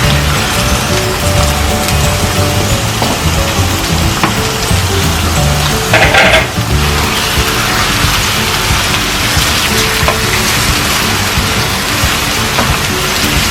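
Squid frying in a pan for adobo, a dense, loud, continuous sizzle and crackle that holds steady throughout.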